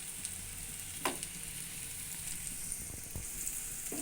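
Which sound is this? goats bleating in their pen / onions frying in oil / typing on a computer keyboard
onions frying in oil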